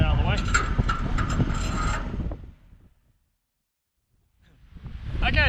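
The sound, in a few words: ratchet strap tightened to hold car on trailer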